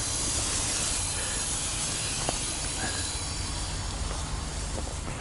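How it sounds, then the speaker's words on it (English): Air hisses steadily out of a leaking pipe on an RV in snowy, icy conditions, a continuous broadband rush that stays constant and close throughout. "You can hear that air coming out that pipe."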